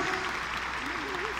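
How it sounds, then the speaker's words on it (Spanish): Applause from an audience in the Auditorio Nacional during a product launch event, a steady dense wash of clapping with a voice faintly singing or calling over it. "un aplauso para ellos, de favor. Mis grandes amigos, un fuerte aplauso."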